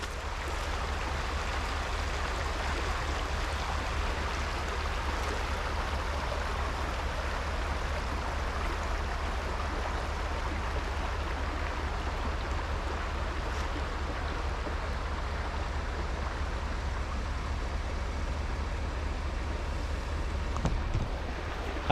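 Creek water flowing steadily across a rural homestead driveway, a continuous broadband rush with a constant low rumble, unchanging in loudness throughout with no voices.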